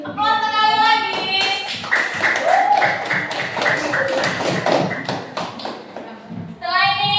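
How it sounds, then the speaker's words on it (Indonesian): Students applauding in an elementary school classroom, a burst of brisk close clapping and tapping from many hands, with a teacher's voice speaking before and after. "Aplaus sekali lagi."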